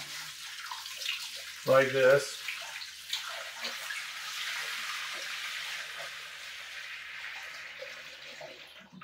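A brief spoken phrase, then about a gallon and a half of water pours steadily into a glass tank, a continuous splashing rush that fades slightly as it goes on.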